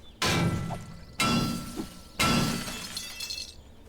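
Three loud, sharp strikes mining iron ore in the game 7 Days to Die, each a crashing, shattering impact followed by a short decaying rattle, about a second apart.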